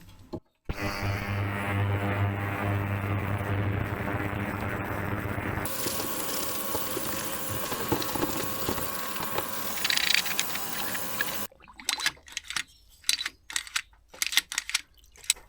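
A vintage army Tirfor winch mechanism, freshly cleaned of grit in an ultrasonic cleaner, gives a sustained buzzing whir that turns rougher, then breaks into a run of sharp, close, irregular ratcheting clicks.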